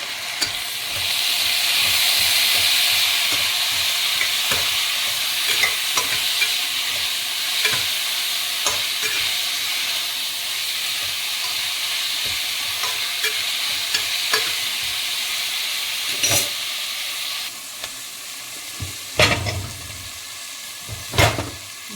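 Soya chunks (meal maker) with frozen peas sautéing in a pan for a pulav, a loud continuous sizzle and hiss with regular scraping stirs, the hiss easing toward the end as a few sharper clatters come through.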